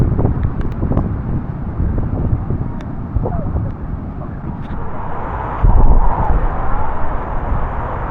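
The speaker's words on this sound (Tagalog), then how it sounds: "Kalaban ang bugso ng hangin at ulan" Steady, blustery storm wind with rain roars across the microphone at Cabangan Beach, Zambales, with a rushing storm noise, swelling louder in a strong gust near the end.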